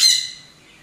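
A bird at its nest gives a single sharp, high squawk that fades quickly into quiet, close and clear.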